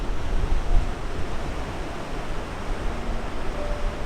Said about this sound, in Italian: siamo al mare